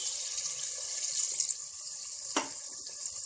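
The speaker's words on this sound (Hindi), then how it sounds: "अभी हम इसे थोड़ा पानी डाल देते हैं" Water poured from a kitchen tap or vessel into a pot of simmering egg curry with potatoes, a steady bright splashing stream with one sharper splash partway through.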